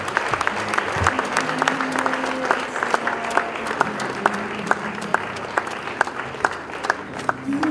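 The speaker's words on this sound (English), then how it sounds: "A better round of applause for the guest lecturer." A university audience applauds a guest lecturer with steady, sustained clapping that fills the hall, sharp individual claps standing out throughout.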